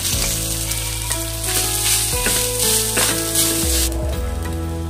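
Poppy seeds and coconut sizzling in ghee for wheat-flour modak, with a loud, dense, close crackle and occasional stirring scrapes.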